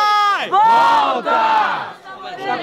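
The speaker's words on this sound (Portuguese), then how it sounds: "Quem gostou mais das rimas de Caixa e Medina faz muito barulho" A rap battle crowd at a student battle event roars and cheers loudly, with many voices shouting together in swelling waves, close and dense.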